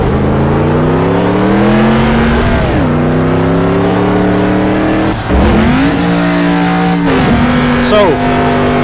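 Truck engine at full throttle in the Automobilista SuperTruck racing game, loud and close, climbing through the revs with several gear shifts, while someone talks over it.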